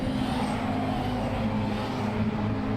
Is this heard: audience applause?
no